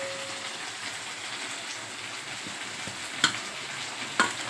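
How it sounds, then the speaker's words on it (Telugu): Batter roasts in oil on a hot plate with a steady close sizzle, broken near the end by two sharp taps. "ఆయిల్తో జస్ట్ మనం అలా కాల్చుకుంటే చాలు అన్నమాట"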